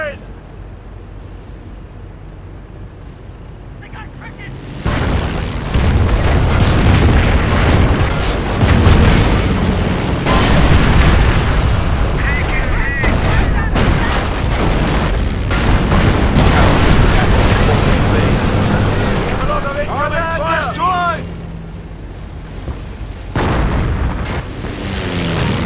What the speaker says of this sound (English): Incendiary attack is on its way. The whole area will be in flames.